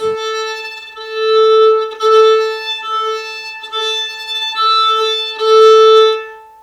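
A violin sounds several long, airy bowed notes on one pitch, with a thin, light tone that swells and fades with each stroke and has brief breaks between strokes.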